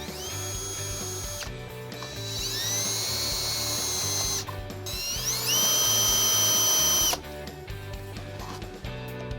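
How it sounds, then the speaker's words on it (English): A power drill whines in several bursts while drilling pilot holes through a sway control template, revving up and spinning down between stretches, loud and close with grinding mechanical tones and no speech. "Use the True-Course as a template to drill your pilot holes with the drill bit,"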